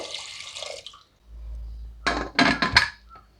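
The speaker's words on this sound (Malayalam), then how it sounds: "പരിപ്പ് വേവാനായിട്ട് വെള്ളം ഒഴിച്ചു കൊടുക്കാം രണ്ട് കപ്പ് വെള്ളമാണ് ഒഴിച്ചു കൊടുക്കുന്നത്" Two cups of water poured onto lentils (dal) in a pot for Kerala sadya-style sambar: a few close splashing, gurgling bursts after a brief clatter of kitchenware, over a low hum, with no talking.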